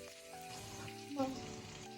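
A soft, steady sizzle of onion, cumin and tomato frying in a pan for sambar, with a brief louder hiss midway.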